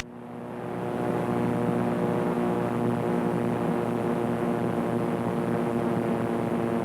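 A Naval Aircraft Factory N3N biplane in flight gives a loud, steady propeller-engine drone, a constant heavy hum rising in the first second and then holding evenly throughout.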